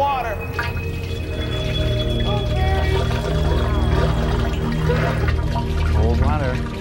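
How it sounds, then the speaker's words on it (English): Cold water pours steadily into a tank for eels, a continuous rushing, splashing flow under people talking throughout. "We're gonna fill it up with water"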